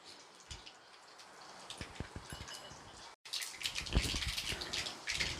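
Fenugreek, mustard seeds and urad dal sizzle and pop in hot oil in a pot on the stove, with sparse crackles at first and then denser, louder spluttering after a brief gap.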